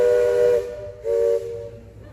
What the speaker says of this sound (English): They're going to blow the whistle again when we get up next to it